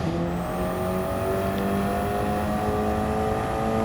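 A race car in Gran Turismo 7 driven on Road Atlanta under full throttle: steady, loud engine whine with harmonics climbing smoothly, continuous and up close with no talk.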